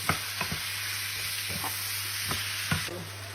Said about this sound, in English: So here we are, all frying away, that's all good.